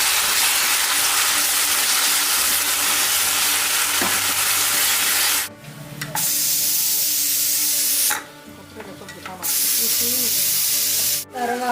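Onion with ginger garlic paste frying in a pan, a loud continuous hiss and sizzle broken by two short quieter gaps, with occasional stirring scrapes, close by and without speech.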